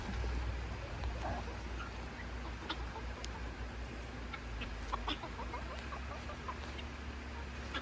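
Rooster crowing amid clucking chickens in a noisy outdoor pen, with scattered bird calls and steady background hum.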